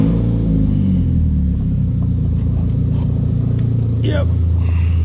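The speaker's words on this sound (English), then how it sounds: "So here's how she runs." A VW GTI with a 1.8T turbo engine idles with part of its exhaust system left off, a loud deep steady rumble with a brief rising rev near the end.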